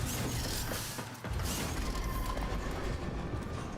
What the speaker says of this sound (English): Elevator. I didn't even have to press the button.